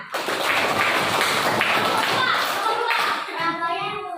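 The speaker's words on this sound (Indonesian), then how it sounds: "Oke, tepuk tangan." Schoolchildren in a classroom clap their hands together in a dense, lively burst that stays loud throughout, with young voices chattering over the clapping.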